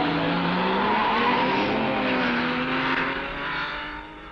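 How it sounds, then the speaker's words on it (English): A 1965 Triumph Spitfire racing at the Le Mans 24 Hours, its engine note rising and falling through the gears as it passes through a slow corner with faint tyre squeal, fading slightly toward the end. "Pio on the French-crewed Spitfire, if anything, slightly quicker through Mulsanne."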